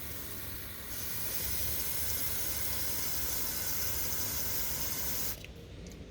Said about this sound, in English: 2 bottles of brake cleaner and a little bit air.